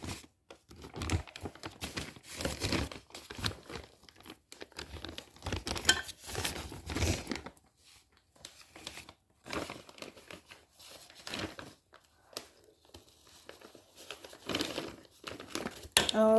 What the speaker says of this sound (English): I'm going to just try to cut with scissors this bag across